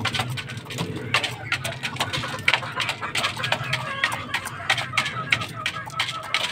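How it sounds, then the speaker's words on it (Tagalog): Hens clucking in a gamefowl pen, with busy, overlapping clucks and scratchy movement noise running steadily throughout at close range, plus faint background voices. "Ito dito yung mga inahin guys."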